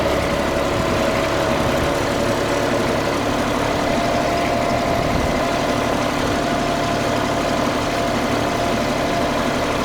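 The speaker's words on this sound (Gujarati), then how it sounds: "અત્યારે તો આપણે ટ્રેક્ટર પહેલા ગિયરમાં હાંકી છીએ" A tractor engine runs steadily in first gear while working a cotton field, giving a loud, continuous low drone with no changes in pace and no voices.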